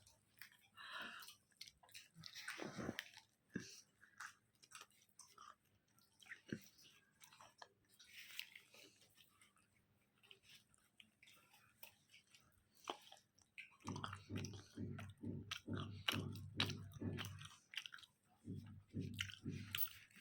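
Someone eats a tiffin snack, with close, moist chewing and squishy bites coming in a steady rhythm toward the end; quiet talk is heard in the earlier part.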